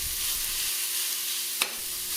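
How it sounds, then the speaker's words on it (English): Ribeye steak for a Philly cheesesteak sizzles loudly and steadily in a hot pan, with a dense close hiss and one brief scrape or stir partway through. "There's something that's just so satisfying with that sizzle."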